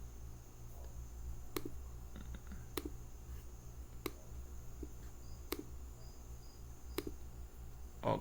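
Sharp mouse clicks while setting up chart indicators on a computer, about six isolated clicks spaced a second or so apart over a faint steady hum, close and quiet.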